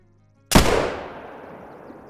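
A muzzleloader rifle fires at a bighorn sheep in a hunting video game: one loud, sudden boom followed by a long, rolling tail that fades slowly over about a second and a half.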